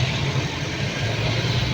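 A Ford Ranger's 2.5 engine cranks steadily without catching, a loud, continuous low churning that fills the whole short stretch with no voices over it.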